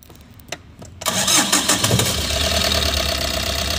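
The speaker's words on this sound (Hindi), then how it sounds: "चलिए मैं आपको गाड़ी चालू करके दिखाता हूँ।" A Tata Super Ace pickup truck with a low-pickup problem cranks briefly after a second of quiet, then fires and settles into a steady, loud mid-pitched idle close by.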